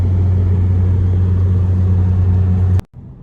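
A VW Jetta, just through a particulate filter regeneration and cleaning, hums along on a road test with a loud, steady low engine drone and road rumble that cuts off abruptly near the end.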